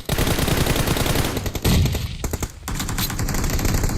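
Gunfire in a video game, dense rapid automatic fire rattling almost continuously with a couple of brief breaks, loud and close throughout, no talk.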